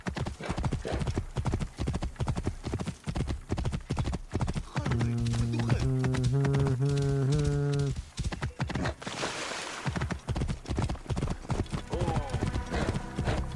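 Hooves of a horse in a video game clip-clop in a quick, steady rhythm, joined midway by a loud neigh and a burst of game music, while a player talks over the action.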